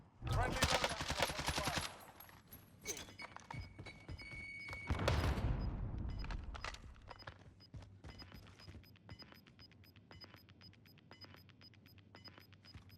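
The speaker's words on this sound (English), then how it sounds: "Shoot him through the window." Gunfire in Call of Duty Warzone: loud bursts of automatic fire open the scene, then scattered single shots and clinking sounds fade out.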